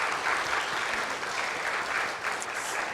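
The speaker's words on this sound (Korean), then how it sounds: "우리 수고하시는 모든 분들께 우리 감사하다고 박수 한번 같이 하겠습니다." A church congregation claps together during a Sunday service, a steady dense patter of many hands filling the room at even loudness from start to finish.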